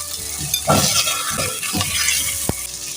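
Ginger, cumin and chicken fry in a clay pot with a loud, steady sizzle, broken by stirring scrapes and a sharp clack of a utensil against the pot.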